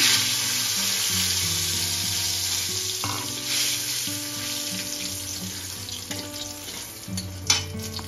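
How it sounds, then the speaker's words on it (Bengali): Dry red chillies sizzle steadily in oil in a pan, a constant crackling hiss close by, with faint background music and a sharp clink near the end. "এই যে শুকনো লঙ্কাটা ভাজা হয়ে গেছে"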